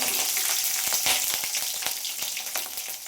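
Green chilies hit hot oil already seasoned with cumin, mustard seeds and curry leaves, a loud, bright sizzle with crackling pops and stirring taps, close and continuous.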